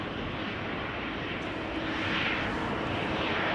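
A fixed-wing airliner landing at Amsterdam Schiphol Airport, a loud, broad jet engine roar that swells slightly toward the end, steady and unbroken with no voices.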